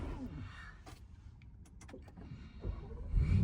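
A Bang & Olufsen speaker in an Audi RSQ8 Performance cabin motors up and retracts with a faint electric whir, joined by small clicks and a soft thump inside the quiet car.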